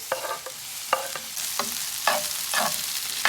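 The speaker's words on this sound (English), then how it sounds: "We're gonna add the mushrooms and onions in it. Okay, that's a nice sizzle." Mushrooms and onions sizzle steadily in hot oil while a utensil scrapes and stirs the pan in irregular clacks, close and fairly loud, with no speech.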